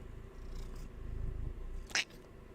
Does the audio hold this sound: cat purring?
yes